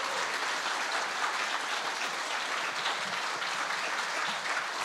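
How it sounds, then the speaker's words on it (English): Steady audience applause fills a senior awards ceremony at a high school, dense and continuous clapping from a large crowd with no breaks, moderately loud throughout. "I think all these students deserve a big, large round of applause."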